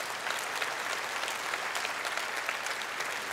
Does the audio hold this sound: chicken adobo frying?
no